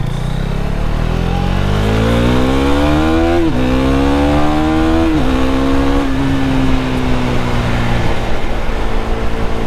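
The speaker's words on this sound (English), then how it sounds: "That's what I mean with the clutchless shifting." A KTM Duke 390 motorcycle accelerates hard with clutchless upshifts, its loud, close engine note climbing steadily, then dipping sharply at each quick gear change before pulling again, with no talk.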